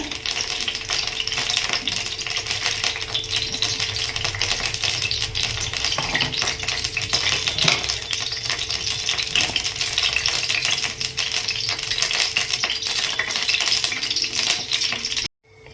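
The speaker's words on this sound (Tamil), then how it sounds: "நான் ஃபர்ஸ்ட் வந்து இஞ்சி தான் பொரிய விடுறேன்." Ginger frying in hot oil in a kadai gives a loud, continuous crackling sizzle heard up close, with occasional stirring clicks and no speech, cutting off abruptly at the end.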